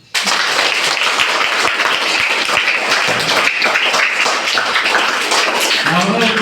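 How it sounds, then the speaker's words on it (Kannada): Audience clapping after a devotional song performance, loud dense applause beginning abruptly and continuing steadily, with a few sharper individual claps standing out near the microphone. "ಮುಗಿತಿ ಚಪ್ಪಾಳೆ ಹೊಡೆದ್ರಿ"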